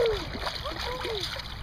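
A child splashes in the Columbia River, with a steady watery splatter and a child's and adult's voices talking over it close by.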